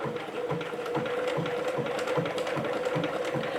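A Bernina sewing machine stitches steadily at close range, its rhythmic mechanical chatter repeating about twice a second with a continuous motor hum beneath, heard alone without talk.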